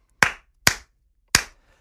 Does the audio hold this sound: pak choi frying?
no